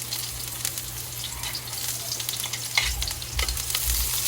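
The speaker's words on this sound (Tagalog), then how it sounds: "mag-isa tayo ng bawang sibuyas" Garlic and onion sauté in hot oil in a pan for Filipino halang-halang chicken, a steady close crackling sizzle throughout, with a low hum beneath and a few soft stirring knocks near the end.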